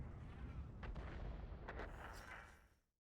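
Tank gun firing in a tank video game, a heavy booming blast with a rumbling low tail that fades out over about three seconds, heard alone.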